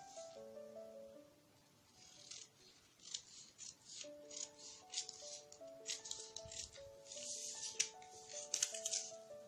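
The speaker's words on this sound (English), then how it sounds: "Make sure when you're cutting, you use the blunt scissors that you are not really using." Scissors snipping through a paper sewing pattern for a shoulder dart princess bodice, a series of close, crisp cuts at an irregular pace over soft background music.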